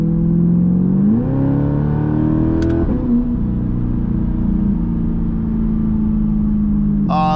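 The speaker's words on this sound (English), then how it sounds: "The exhaust just completely engulfs the inside of the cabin." C8 Corvette with a titanium exhaust heard from inside the cabin, engine droning and rising in pitch as it accelerates, then settling into a steady cruise, loud and continuous.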